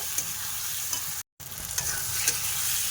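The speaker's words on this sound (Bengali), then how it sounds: "মশলা কিন্তু যথেষ্ট কষাই হয়ে গেছে" Spice paste sizzling and frying in oil in a pan while being stirred, ahead of adding mutton, with steady close crackling hiss and scraping stir strokes, and a brief silent gap partway through.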